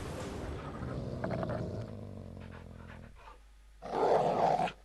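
Dogs in the video game The Witcher 3 growl and bark in a low, rough rumble, followed by a louder burst of barking near the end.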